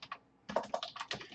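A computer keyboard typed at close range, a brief keystroke then a quick run of several sharp clicks, as a command is entered; no voices.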